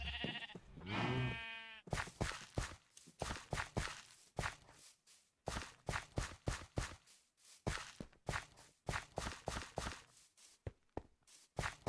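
A single sheep in the video game Minecraft bleats once at the start, a wavering cry, followed by a long run of quick, regular footsteps.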